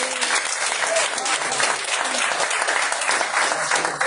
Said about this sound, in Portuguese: Aplaude em nome de Jesus.